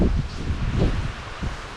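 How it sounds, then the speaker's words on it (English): Wind gusts outdoors from the east, buffeting and rustling in a steady low rumble with a few stronger surges, close to the microphone and with no talking. "Kind of getting wet because the wind's coming from the east"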